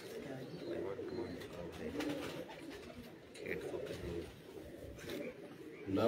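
Soft, low cooing from a rooftop pigeon repeats over a murmuring background, fairly close but not loud.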